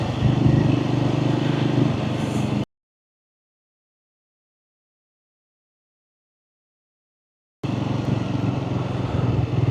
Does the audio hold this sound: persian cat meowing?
no